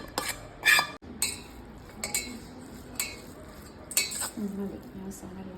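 Masala being stirred into cooked Maggi noodles in a pan, with a utensil scraping and clinking against the metal in a string of sharp, irregular taps and scrapes, moderately close, amid a quiet room.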